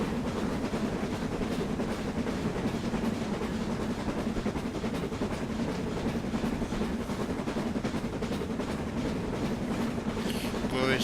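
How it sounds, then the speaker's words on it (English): A BR Standard Class 9F steam locomotive running on lines in western Scotland, a continuous rumbling roll with a faint rhythmic rail clatter, steady and fairly close throughout. "Glorious and wonderful sounds from a 9F."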